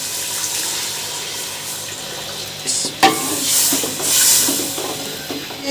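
Water poured into spiced masala frying in ghee in a cooking pot, a steady close sizzle and splash with a sharper burst partway through, no talk.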